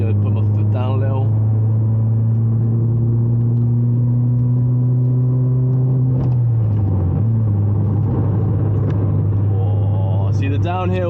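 A 1.4-litre Ford Fiesta engine drones loudly from inside the cabin, its pitch climbing steadily as it accelerates and then shifting, with a voice briefly heard.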